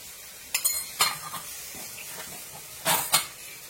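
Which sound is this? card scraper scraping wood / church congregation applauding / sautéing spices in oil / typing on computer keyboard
sautéing spices in oil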